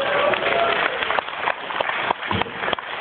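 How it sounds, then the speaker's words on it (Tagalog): An audience claps in a broad, continuous patter of applause, with a voice speaking over it. "Mas mahina na palakpak mo yan."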